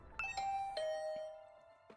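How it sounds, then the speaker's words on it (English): A doorbell rung in a video game, heard from the other side of the door: a clear electronic chime of several overlapping bell tones that ring on and fade slowly, with no talking. "I rang the doorbell and could hear the bell ring on the other side of the door."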